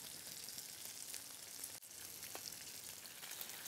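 Bacon frying in a pan, a faint, steady crackle and sizzle with scattered pops, heard alone without voices.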